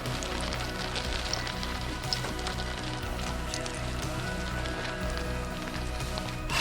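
Rain falls steadily across the whole stretch during a coyote hunt, a dense, constant hiss and patter with no pauses, fairly loud and close.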